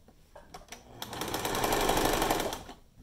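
A sewing machine runs one steady continuous stretch, stitching T-shirt straps onto a fabric mask with a quarter-inch seam allowance, loud and close, rising in the middle and then easing off.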